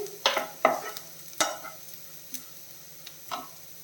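Oats are dry-roasted and stirred in a pan, the spoon giving a few sharp scrapes and taps against the metal, spaced irregularly over a faint background hiss, with no talk.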